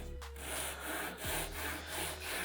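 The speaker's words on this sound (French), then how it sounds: "je vais venir utiliser ma scie japonaise" A Japanese hand saw cuts through wood while marking out the shoulders of a half-lap joint, giving steady back-and-forth rasping strokes, close and continuous, with no talking.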